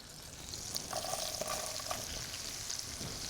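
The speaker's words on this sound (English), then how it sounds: "we're just softening the onions till they're nice and translucent" Onions softening in butter and olive oil in a pan for gnocchi with mushrooms: a steady, moderately quiet sizzle with faint clinks of a utensil, and no talking.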